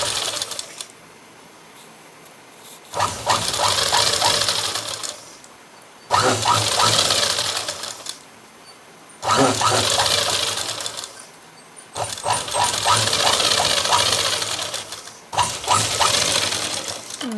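A sewing machine runs long hem stitches along a blouse in repeated bursts of a few seconds each, a fast mechanical whirring clatter that starts and stops between pauses, close and loud.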